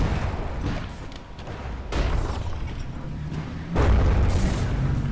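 Cannons fire shells in the naval combat game From The Depths, a run of heavy booms, some distant and one louder close blast near the end, over constant rumbling battle noise.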